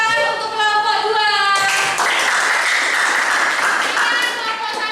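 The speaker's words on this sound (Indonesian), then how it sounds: "Kita berikan tepuk tangan untuk kelompok 2." Applause for a student group in a vocational school classroom, a burst of clapping rising after about two seconds and continuing steadily, mixed with children's voices and chatter throughout.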